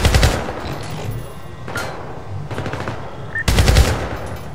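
Rapid automatic gunfire bursts from the PC shooter game Syndicate (2012), loud and close, in three or four clusters separated by brief lulls, with the final burst the heaviest.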